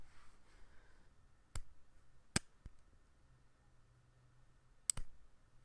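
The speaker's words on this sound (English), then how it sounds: "that's the sound of that nub" Several sharp, crisp clicks spaced irregularly over a quiet background, like a knife blade snapping past its detent.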